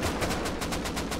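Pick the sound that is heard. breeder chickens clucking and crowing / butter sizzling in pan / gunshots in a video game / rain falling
gunshots in a video game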